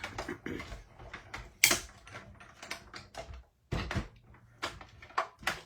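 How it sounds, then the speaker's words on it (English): A mini cut and emboss machine cranking a card through at a craft desk, giving mechanical clunks, ratcheting clicks and a sharp snap, with irregular handling noises in between. "Mini cut and emboss machine, one of the best purchases I ever made."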